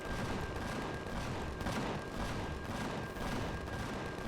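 Gunfire rattling aboard a spaceship in the Empyrion Galactic Survival video game, rapid repeated shots in an even burst pattern under a constant steady hum, fairly faint throughout.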